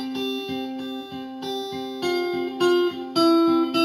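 Slow run-through of a song's riff on electric guitar, a steady pattern of plucked notes that repeat in even pulses and build louder toward the end, played alone.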